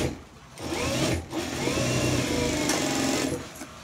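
A sewing machine runs steadily while stitching a folded seam on a blouse. It whirs loudly and continuously at close range, with short pauses near the start and end.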